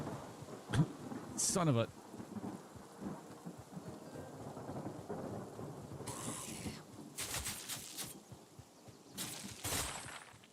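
Steady rain pours in the video game Hytale, punctuated by sharp cracks and rumbles of thunder, while someone talks and exclaims over the storm.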